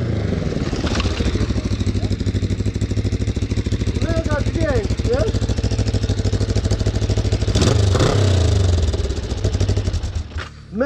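A Kawasaki GPZ 500 motorcycle engine runs loud and close with a throbbing idle, then revs hard several times. A person's voice is briefly audible under the noise.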